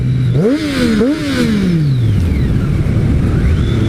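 A Triumph Street Triple 675 motorcycle revs twice in quick succession, its engine pitch climbing, then winds down into a steady rolling drone amid road and wind noise, loud and close.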